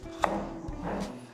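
Food being chopped on a cutting board in a home kitchen, a few quiet, irregular knife strikes close by with faint background noise and no talking.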